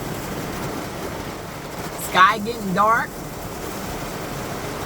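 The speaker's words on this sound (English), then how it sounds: "It's raining and windy." Heavy rain and wind batter a van during a storm in South Carolina, a steady dense hiss and rumble throughout, with a person briefly talking over it midway.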